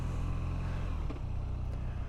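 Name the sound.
BMW R nineT motorcycle riding off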